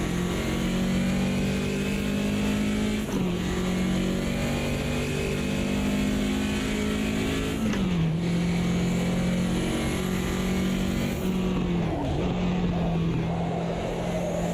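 Several GT Classic race car engines in the Automobilista 2 racing game drone loudly and steadily for the whole stretch, with pitch dips at gear changes and cars passing close by. No talk is heard.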